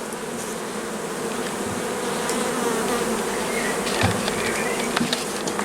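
Dense, steady buzzing of many honey bees as a colony is transferred from a nucleus box into a full hive, loud and continuous at close range with no speech.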